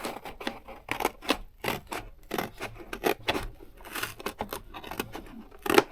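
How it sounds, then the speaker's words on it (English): Scissors snip steadily along a drawn line, cutting out a base for a bracelet display, with rapid rhythmic crunching snips and rustling material close up and no talking. "So I'm going to cut it along my line."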